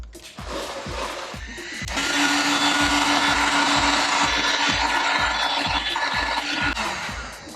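A heat gun blows a steady broadband rush of hot air onto the adhesive tape of a carbon spoiler on a BMW M4, while sharp rhythmic clicking ticks run beneath it throughout.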